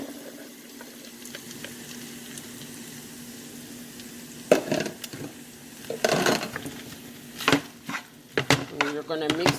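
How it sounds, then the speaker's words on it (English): Four cups of white rice tipped into a hot wok of shrimp fried rice, giving a steady low sizzle with bursts of scraping and clattering as it lands and gets stirred in, close and moderately loud. "So now we're gonna add our 4 cups of white rice."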